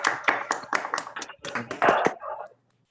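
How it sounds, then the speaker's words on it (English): Scattered hand claps from a few participants in an online physics colloquium meeting, uneven and unsynchronized, moderately close, lasting about two and a half seconds before cutting to silence. "maybe we can awkwardly clap for Cacey again and thank her for her time and for such a nice talk"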